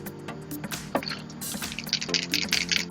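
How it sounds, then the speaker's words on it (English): Wink of Stella shimmer water brush filled with mica shimmer solution, squeezed and squirting liquid onto paper; a run of soft, wet drips and spurts, close and quiet, with no talking. "it's these little water brushes that are full of like a shimmer solution, probably mica, and you just squirt them out"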